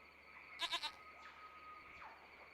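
A goat in the video game Lost Horizon gives a short, quavering bleat of three quick pulses, fairly close and clear over a quiet ambient background, then soft faint tones follow.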